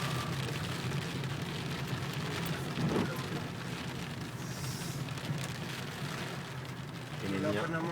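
Heavy rain pours steadily in Riyadh, a dense, loud hiss running throughout, with voices talking faintly underneath.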